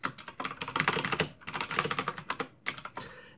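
Rapid, uneven clatter of computer keyboard keys as PHP code is typed, coming in close bursts with brief pauses between them and no voices.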